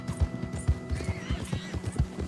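A horse in Red Dead Redemption 2 whinnies amid a steady, close clip-clop of hooves, the neigh rising briefly over the rhythmic footfalls.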